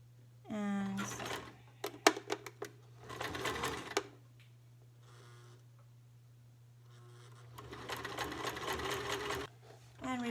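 Sewing machine stitching a fabric face mask, with several bursts of rapid close needle clatter separated by pauses and a steady low hum underneath throughout.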